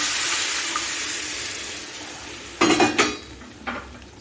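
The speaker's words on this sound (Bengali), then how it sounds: "এখন আমি যে চিনিটা আমি মেল্ট করে রেখেছিলাম সেটা আমি দিয়ে দিচ্ছি" A faint continuous hiss of semolina roasting in a pan, then a few sharp clanks and a sloshing pour as melted sugar water is added and a spoon knocks against the pan, close up.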